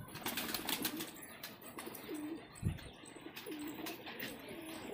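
Released pigeons flap their wings in a flurry, with soft cooing calls and a few chirps from the flock. Outdoor background noise runs underneath and the birds sound moderately close.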